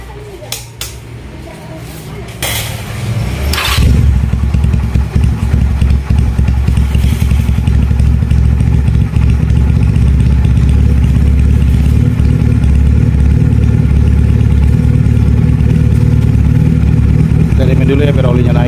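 Benelli PE 250 motorcycle engine cranks with a few short clanks and bursts, then fires up and settles into a steady, loud, close idle that runs on as it warms, with brief talk at the start.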